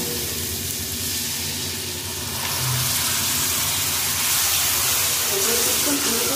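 Spice paste with coriander powder and salt frying in a pan with a splash of water, a steady broadband sizzle that grows slightly louder midway, continuous and close with no clear talk.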